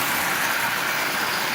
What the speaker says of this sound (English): a new locomotive up and running